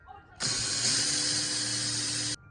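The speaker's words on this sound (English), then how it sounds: "I'm going to pilot with a smaller hole before I drill the bigger hole" An electric drill whirs steadily at high speed for about two seconds, close up, boring a small pilot hole in a wall, starting and stopping abruptly.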